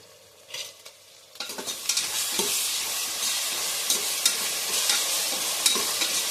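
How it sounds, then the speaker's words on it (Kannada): Ginger garlic paste frying in a pan for jackfruit biryani, starting quiet and then breaking into a loud steady sizzle with sharp stirring scrapes scattered throughout, close by. "ಶುಂಠಿ ಬೆಳ್ಳುಳ್ಳಿ ಪೇಸ್ಟು 2 ಟೇಬಲ್ ಸ್ಪೂನ್ ಅಷ್ಟು ಹಾಕ್ಕೊತಾ ಇದ್ದೀನಿ"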